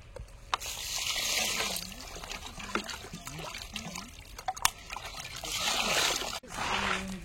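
Running water splashes and trickles over two kilograms of raw chicken pieces as they are rinsed in a container, with steady sloshing and a few sharper splashes, close and moderately loud throughout.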